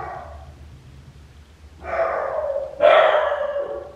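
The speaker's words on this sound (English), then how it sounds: "Don't mind the dogs barking." Two loud, sharp dog barks ring out a second apart, standing out over a quiet background with a faint earlier yip.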